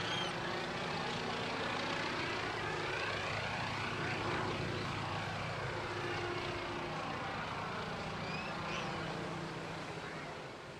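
Vintage naval propeller aircraft making a slow pass at the Bournemouth Air Festival, its engine drone loud and steady throughout, swelling slightly mid-pass with a faint Doppler sweep as it crosses, then easing off.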